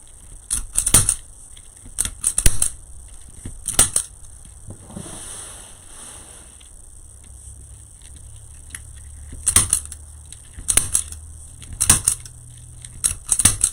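Scissors snip in short clustered bursts during autumn wreath crafting, several quick cuts near the start, a quiet pause in the middle, then more crisp clipping toward the end.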